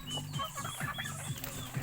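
Chickens cluck in short, repeated bursts, with overlapping calls from several birds nearby, fairly faint.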